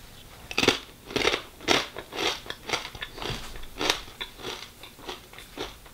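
Someone chews a mouthful of homemade almond butter made in a high-powered blender, with close, rhythmic wet crunching and mastication repeating steadily for several seconds.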